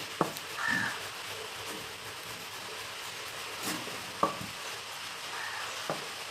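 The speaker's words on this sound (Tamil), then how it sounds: "நம்ம மாவை கரைச்சிடலாம்" Gram flour and rice flour batter for banana bonda is stirred by hand in a bowl, making soft, wet, scraping sounds. A few sharp clinks of the spoon against the bowl stand out over a quiet hiss.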